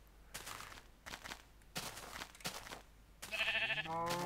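Sheep bleats from Minecraft, several short repeated calls, close and moderately loud, followed by a brighter tonal game sound.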